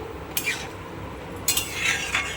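A spoon stirs boiled ghugni through cooked spices in a pan over high flame, with two short bursts of scraping and clinking against the metal and a quiet cooking hiss between them.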